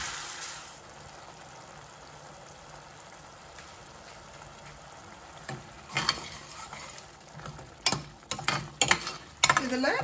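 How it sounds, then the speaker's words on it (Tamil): Tomato paste sizzles and bubbles in a pan for payaru biriyani, a steady soft frying hiss that grows busier toward the end with sharp spatters and scraping stirs. "தக்காளி விழுது இப்போ இதில் போடுறேன். நல்லா இதை 1-10 நிமிஷம் நல்லா கொதித்து நல்லா சுருண்டு வரட்டும்"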